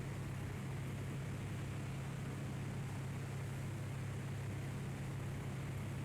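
A simulated Mooney M20R Ovation propeller engine runs at full throttle in a flight simulator, giving a steady, unbroken low drone with a strong hum and no talking.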